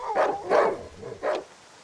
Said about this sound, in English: Just barking to the end, I guess.